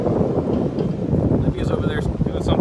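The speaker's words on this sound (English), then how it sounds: "Really windy." Strong wind buffets the microphone in a rough, loud rumble at an outdoor dirt racetrack, Antioch Speedway, while people talk nearby.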